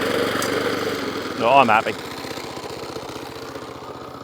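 A Kawasaki FJ100 engine on a Suffolk Punch cylinder lawnmower idles with a steady, even mechanical chug, close and continuous, as someone speaks briefly over it.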